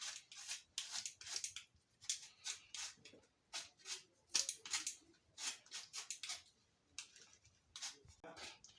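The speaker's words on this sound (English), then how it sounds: "Then you pick another one, you go peeling all round." Potato being peeled by hand with a knife, a run of short, crisp scraping strokes in quick irregular rhythm, close and fairly quiet, with no talk over it.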